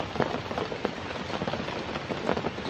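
Steady rain falls at Taytay Falls during a flash flood, a dense hiss of drops pattering on surfaces with scattered louder splats, close and constant with no voices.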